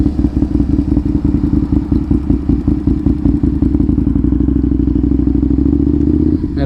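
Aprilia motorcycle with a new radiator and exhaust, its engine idling loud and close with a steady pulsing throb and slight revs, running alone throughout.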